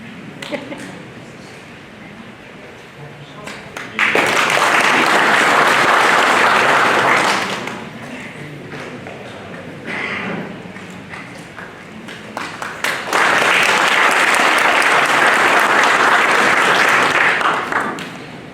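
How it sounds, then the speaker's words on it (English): Two bursts of audience clapping at a Chinese American WWII veterans Congressional Gold Medal ceremony in Fresno, each a loud, dense wave lasting a few seconds, with a quieter gap of room noise and scattered sounds between them. "so you can do a single clap"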